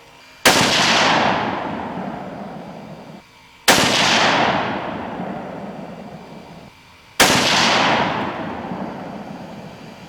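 Three loud .260 Remington rifle shots firing 140 grain SST bullets, each a sharp crack followed by a long rolling echo, spaced about three seconds apart with no talk.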